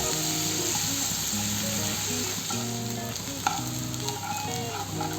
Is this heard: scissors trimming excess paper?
no